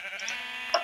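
A sheep bleats in the Minecraft video game, a short, fairly faint bleat with a brief sharper accent near the end.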